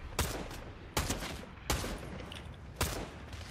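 Four sharp gunshots in a video game, evenly spaced and roughly three-quarters of a second apart, each a loud crack with a brief decaying tail over quiet background.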